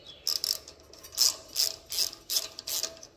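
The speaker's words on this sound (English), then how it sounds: "You can either use a Phillips or a quarter inch drive." Quarter-inch drive socket ratchet loosening an engine clamp on a Troy Bilt Horse tiller: a series of about eight crisp clicking ratchet bursts in an uneven rhythm, close and clear with no talk.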